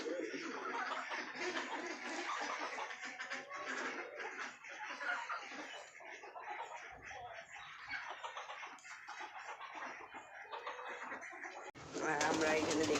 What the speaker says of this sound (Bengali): সব পায়রা ঢুকছে বেড়াচ্ছে